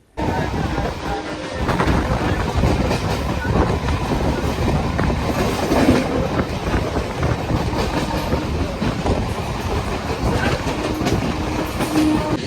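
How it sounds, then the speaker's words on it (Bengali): A suburban train from Sealdah rumbles steadily along the rails, a constant loud roar with rhythmic clatter and wind buffeting throughout. "ছেড়ে দিয়েছে ট্রেন দেখতে পাচ্ছেন শিয়ালদা থেকে"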